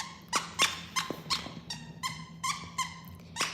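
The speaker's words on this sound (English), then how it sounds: "He loves nothing more than squeaky toys" A dog chews a squeaky plush opossum toy, producing about a dozen sharp, high squeaks in a quick uneven rhythm, loud and close with no talking.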